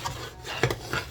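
A spoon scraping a pan while stirring peanut butter fudge, close, gritty metallic scrapes in short repeated strokes.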